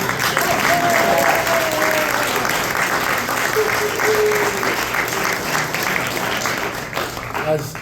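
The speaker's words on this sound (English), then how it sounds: "if you guys could clap just a little bit louder" A crowd at a campaign event for an Illinois state representative candidate applauds loudly and continuously. Whistles and shouts rise over the clapping.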